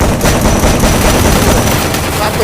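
Dense, continuous gunfire in a tournament match of a video game, loud and unbroken throughout with no gaps.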